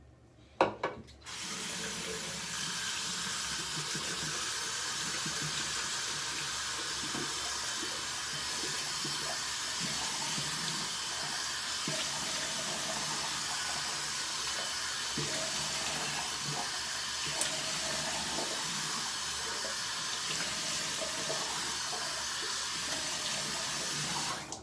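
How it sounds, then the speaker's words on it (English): Tap water runs steadily into a sink, splashed on the face before a shave with Barbasol and a Rockwell razor. A constant close hiss of flowing water lasts throughout after a brief start. "I'm going to go ahead and splash some water on my face"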